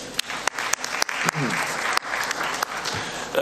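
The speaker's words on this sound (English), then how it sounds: "Can we clap hands for them?" Delegates in a football confederation general assembly hall applaud to thank a committee after a resolution passes, a steady, full round of clapping with a few sharper, louder claps standing out throughout.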